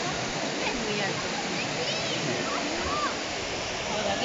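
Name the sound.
large waterfall in Brazil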